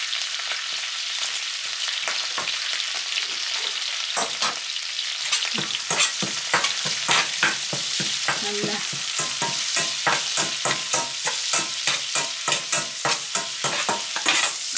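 Curry leaves fry in butter for a calamari dish, giving a steady close sizzle with a dense run of sharp spatula clicks and scrapes as they are stirred, and no voices.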